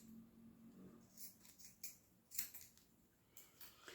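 Scissors trim the two loose zipper tape ends on a small children's wallet in a sewing workshop, a handful of crisp, quiet snips spaced over a few seconds with no talk.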